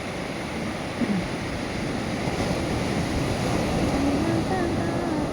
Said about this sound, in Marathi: फेसाळलेला समुद्र.